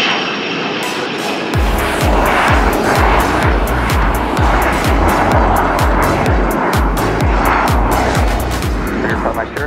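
A general aviation plane takes off at Gillespie Field in San Diego, its engine roaring loud and steady throughout, mixed with a strong rhythmic thumping beat.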